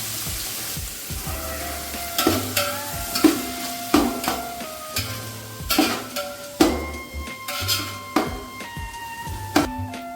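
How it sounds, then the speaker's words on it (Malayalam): Six finely sliced onions deep fry in oil and ghee for a vegetable biryani, a steady crackling sizzle punctuated by repeated clanks and scrapes of a ladle against the pan, with no talking. "സവാള നല്ലപോലെ ഒന്ന് ഡീപ്പ് ഫ്രൈ ചെയ്തെടുക്കുക."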